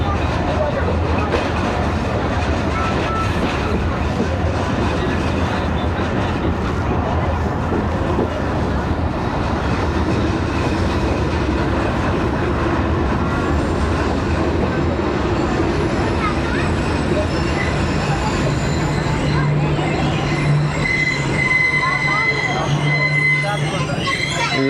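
Onboard the Awam Express passenger train on a winter run between Padidan and Shahdadpur, a continuous loud rumble of wheels and carriages rolls on, with metallic wheel squeal rising toward the end as it slows.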